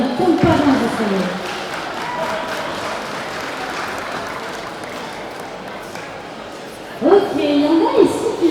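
Crowd applause at a cosplay contest, a dense even patter of many hands clapping at moderate volume, with a host talking briefly at the start and again near the end.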